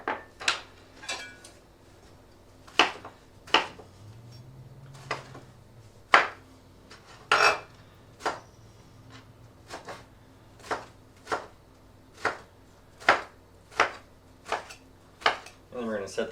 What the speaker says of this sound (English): let's go ahead and chop up the eggplant